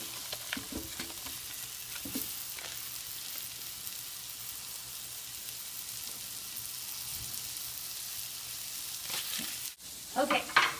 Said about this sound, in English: while the patties are cooking and the sauce is simmering